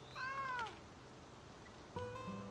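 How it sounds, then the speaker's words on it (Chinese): A small cat gives a clear, drawn-out meow close by, followed after a short pause by a second shorter meow, both alone in a quiet room. "哎，猫咪，你是谁家的小猫咪呀？"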